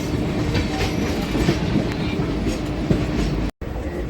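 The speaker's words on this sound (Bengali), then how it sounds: "ট্রেন এখন খড়গপুর স্টেশনে ঢুকছে হলদিয়া আসানসোল এক্সপ্রেস" The Haldia–Asansol superfast express rolls into Kharagpur Junction as the Howrah–Mumbai express pulls out beside it, a loud, steady rumble with rhythmic wheel clatter and a brief cut in the sound near the end.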